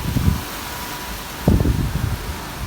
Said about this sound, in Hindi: ये देखिए तेज़ हवाओं की आवाज़ सुनिए आप लोग